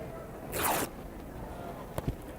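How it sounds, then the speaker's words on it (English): Fabric is torn by hand into strips, making one loud, close ripping sound under a second long, then a couple of short soft tears over steady background hiss. "then you rip pieces of fabric. And you just continue to rip."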